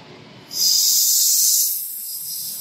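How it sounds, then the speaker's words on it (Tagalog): A loud, steady hiss of compressed air blown into an oil cooler bursts in abruptly and holds, then eases slightly toward the end, with no voices. "Hahanginan lang natin yan."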